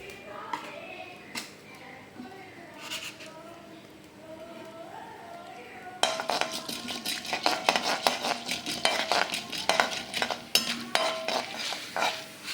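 Urad dal frying in oil in a pan for banana flower chutney, heard as a faint sizzle under a voice, then louder clinks and scrapes of a spoon stirring against the pan.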